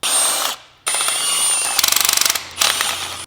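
A ratchet works on a car engine's valve cover bolts, with bursts of quick metallic clicking separated by brief silences, close and fairly loud.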